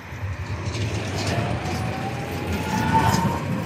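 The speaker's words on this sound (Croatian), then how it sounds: "Ljudi, izgadio me tramvaj." A tram rolls past along a city street, a steady low rumble with a rising metallic squeal of wheels on rail, fairly close and continuous throughout.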